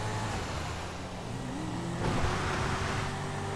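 A fast car in GTA V roars under full throttle, its engine note climbing steadily and loudly as it accelerates, with no voices heard.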